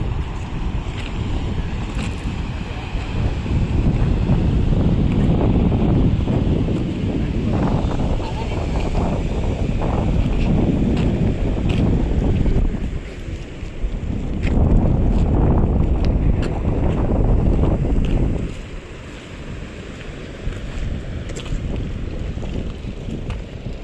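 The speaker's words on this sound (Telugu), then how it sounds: "ఆ సముద్రం వాటర్ సౌండ్ అయితే సూపర్ అనమాట" Steady roar of surf and wind washing over the whole stretch of a Puducherry beach, with a person talking over it now and then.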